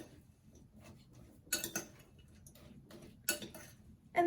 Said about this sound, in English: I'm just going to dump in the chocolate chips, and that was 1/4 cup of chocolate chips. And stir it in.